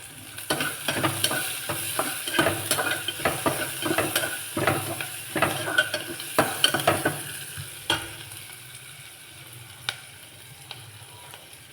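Onions sizzle and fry in a pan with a little salt, broken by repeated scraping stirs of a spoon, steady and close throughout, no voices.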